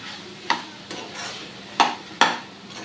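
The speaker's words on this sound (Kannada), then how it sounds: "ಇದು ಚೆನ್ನಾಗಿ ಇದೇ ಆಯಿಲಲ್ಲಿ ಚೆನ್ನಾಗಿ ಫ್ರೈ ಮಾಡೋಣ." Small brinjals fry in oil with a soft, continuous sizzle, broken by four sharp scrapes of a spoon against the pan as they are stirred at an uneven pace.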